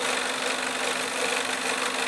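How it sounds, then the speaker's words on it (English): A PS3 Slim CECH-2002x Blu-ray drive with a foreign object inside, giving a steady loud mechanical whirring and grinding drone with an engine-like hum, alone and unbroken. "the Blu-ray drive is making all this noise"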